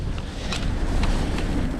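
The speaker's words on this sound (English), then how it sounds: "God, it's a bit windy this morning" Morning wind buffets a microphone outdoors in London, producing continuous low rumbling gusts with a few brief sharper bursts and no talking.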